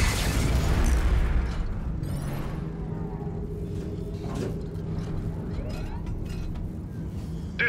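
In the Dawn of War III video game, a power core is destroyed with a deep booming explosion at the start that rolls into a long rumbling tail, followed by scattered crackles and game effects.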